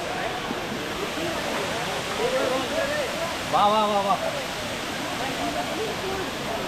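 Eratti Falls roars as a constant broad rush of falling water, loud and unbroken throughout, while people talk and call out over it.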